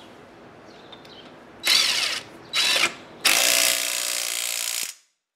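DeWalt DCF880 20-volt cordless half-inch impact wrench with detent spinning a nut back on: two short loud bursts followed by a longer hammering run of about a second and a half, close and alone.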